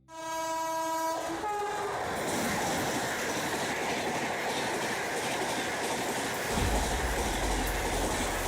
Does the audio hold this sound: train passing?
yes